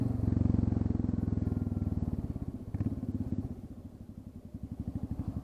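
A Royal Enfield Classic 350 motorcycle with the exhaust tip taken off chugs out a loud, close, rhythmic single-cylinder beat that dips briefly and then picks back up, steady and unaccompanied by voices.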